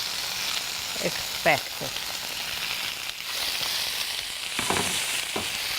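Shrimps sizzle steadily in a hot pan with olive oil, a continuous crackling hiss broken by a few brief voiced sounds.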